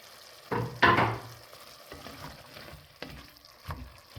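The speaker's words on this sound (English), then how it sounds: "Now we're going to add it to the meat mixture. Add our potatoes to our meat." Diced potatoes drop into sizzling meat in a pot for green chili stew, giving a loud sizzle and clatter that fades into quieter stirring and frying noises.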